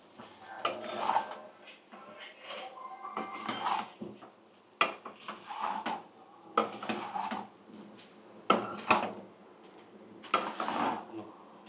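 Jeera rice being stirred in a metal pot, a repeated scraping and clinking of a spoon against the pot's sides in uneven bursts, close and fairly loud, with no talking.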